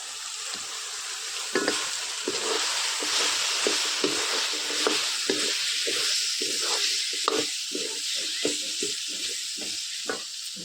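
Steady loud sizzling as potatoes fry in a pan of spicy Malvani dried bombil fish curry, broken by repeated scraping and clacking as a spoon stirs the mix.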